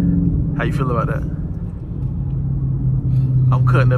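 A Dodge 392 Scat Pack's V8 rumbling loudly while driving through traffic at night, a deep steady drone with a voice talking briefly over it.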